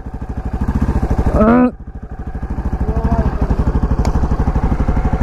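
A KTM LC4 640 single-cylinder motorcycle on a test ride, its loud thumping engine pulsing steadily close by, briefly dipping as revs drop and then building again, with a voice speaking over it.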